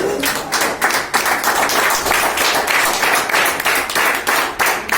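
A church congregation claps hands in praise of Jesus, a dense, close round of clapping with some individual claps standing out in a loose, lively rhythm throughout.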